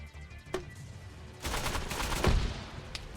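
Mechs firing guns in the Mass Effect video game, with rapid bursts of loud gunfire that build into a dense, sustained volley in the second half.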